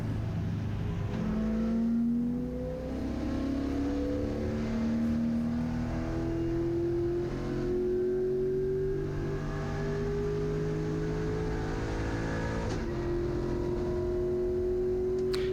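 A GLTC race car engine drones steadily through a race at Gingerman Raceway, its pitch climbing gradually as it accelerates, then dropping and rising again with a gear change. It is loud and continuous, with no talk.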